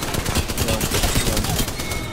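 Rapid gunfire rattles through a shooter video game in a dense, continuous stream of close, loud shots with no pauses and no talk over it.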